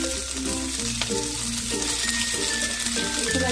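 Green chilies sizzle and fry in a pan with ginger and garlic, a steady close crackle with soft stirring scrapes, onion and capsicum being cooked alongside.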